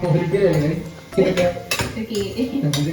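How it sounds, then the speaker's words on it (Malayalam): Biryani being stirred in a pressure cooker pot, with metal spoon scrapes and clinks against the pot recurring every second or so, close and fairly loud, while someone talks over it. "നന്നായിട്ട് ഇളക്കുക. ഇളക്കലാണ് എൻ്റെ മെയിൻ."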